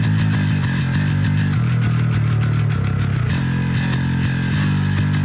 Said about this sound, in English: it's like a chorus effect, almost a tiny little bit